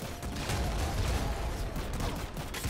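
The triple weapon in Nuclear Throne, a roguelike shooter, fires as a dense, continuous stream of loud shots lasting the whole moment, with no talking over it.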